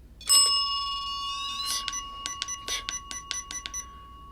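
A small desk bell is tapped repeatedly: one long ringing ding, then a quick series of short metallic dings in an uneven rhythm, clear and close with no talking.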